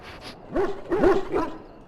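A dog in a fantasy video game gives three short whimpering yelps with rising and falling pitch, fairly close and moderately loud over a low background hum.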